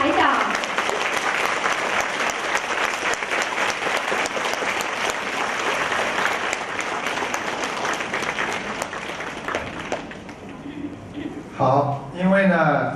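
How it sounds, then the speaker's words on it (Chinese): A large seated audience applauds Master Lu Junhong at a 2013 event in Thailand, dense steady clapping filling about ten seconds before fading, then a voice speaks over a microphone at the end. "让我们用最热烈的掌声恭喜我们尊敬的卢军宏台长"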